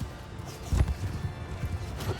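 Cavalry horses gallop through a Mount & Blade II Bannerlord battle, a muffled run of close hoofbeats under faint background noise.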